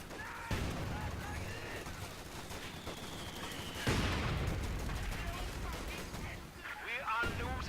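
MG42 machine gun in a Rush-mode video game match, bursts of rapid gunfire layered with other battlefield shots and explosions, fairly faint and continuous throughout.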